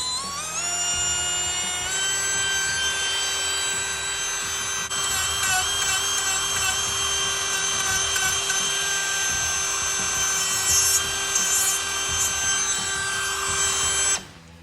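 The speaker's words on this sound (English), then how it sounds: "So this is the brand new brushless rotary tool" A brand-new brushless rotary tool whines at a high pitch as it cuts into wooden quarter round, running steadily for about fourteen seconds with the tone shifting under load before it cuts off abruptly.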